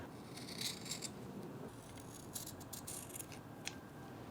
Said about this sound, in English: I'm also gonna cut the excess fabric here